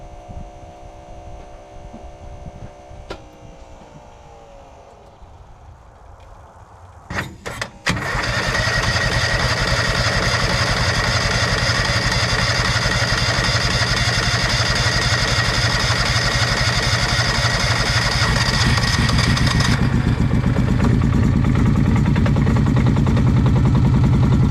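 A Kawasaki Mule 2510 utility vehicle engine, bought inoperable at auction, cranks briefly in a few bursts, then catches and runs at a loud, steady idle that carries on without talk.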